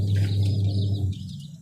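A plump hen and other chickens cluck softly and close by over a steady low hum, the calls blending into a continuous murmur that eases off toward the end.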